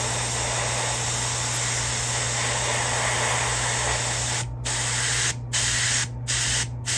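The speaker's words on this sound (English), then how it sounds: "Make sure it's spraying correctly" A continuous airy hiss of an airbrush spraying metallic alcohol ink onto a sunfish swimbait runs for several seconds, followed by four short bursts of spraying separated by brief pauses.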